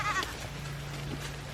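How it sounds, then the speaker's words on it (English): Goats bleat behind an electrified fence on farmland, a short nearby call over constant outdoor noise and a low hum. "peeking at the goats as I go"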